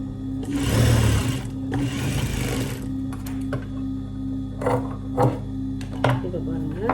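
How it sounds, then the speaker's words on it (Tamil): Sewing machine stitching a lining panel over the main fabric piece, two loud close bursts of running stitches, then quieter intermittent short stitch runs with a steady background hum. "நம்ம ஒரு தையல் போட போகிறோம்."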